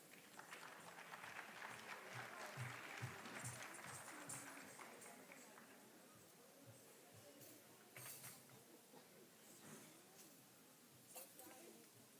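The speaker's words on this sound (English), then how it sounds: "Please give a huge round of applause for the students of Symbiosis School of Biological Sciences." A faint round of applause follows a student devotional dance at a university cultural evening in Pune. The dense clapping is strongest early, then thins into scattered claps and hall noise, with some voices underneath.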